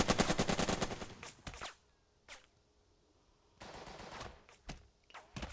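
Gunfire from the war strategy game Burden of Command: a dense rattling volley of rapid shots, then a lone crack, then more scattered bursts of firing, moderately loud with quiet gaps between.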